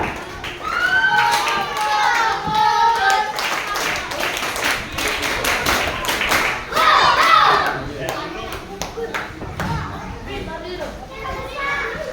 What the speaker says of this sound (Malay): Berilah tepukan.